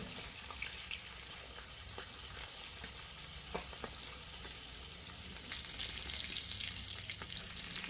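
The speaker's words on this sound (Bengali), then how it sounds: "মাছটা খুব ভালো লাল করে ভেজে নেব" A large pond-caught rohu fish, about four kilograms, sizzles faintly and steadily in hot oil as it browns, a soft continuous crackle with a few small pops and no talking.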